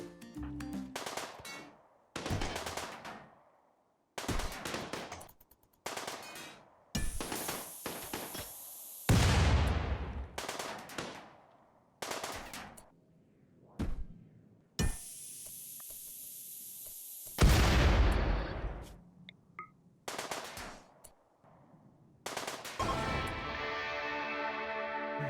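Bursts of automatic gunfire from mini slugger turrets of a mech cluster in the RimWorld video game, in repeated separate volleys with heavier booming blasts mixed in, loud and free of talk.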